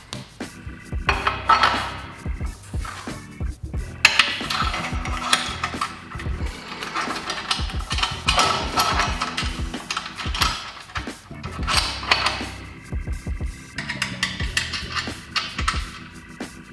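Metal parts of an Akrapovic slip-on exhaust are fitted onto a Ducati 959 Panigale, with irregular close clanks, scrapes and rattles of the clamp and mufflers being handled and pushed into place.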